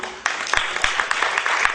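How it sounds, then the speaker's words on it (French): An audience at a stage show about a stateless, invisible child gives a short burst of scattered applause. Individual claps stand out against a faint murmur of voices. "On l'applaudit."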